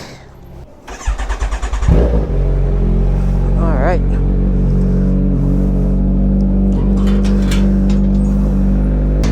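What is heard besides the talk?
Honda Click scooter engine starting and warming up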